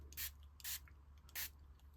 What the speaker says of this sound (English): you can take your spritzer and actually spray the cardstock